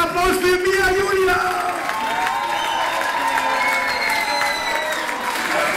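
A party crowd at a Mallorca-style schlager concert night applauds and cheers loudly after a singer's set, with voices and shouts riding over the sustained clapping.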